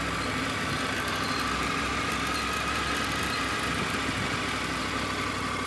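Motorcycle engine idling without throttle during a riding lesson, a constant dense rumble and hiss filling the whole stretch with no speech.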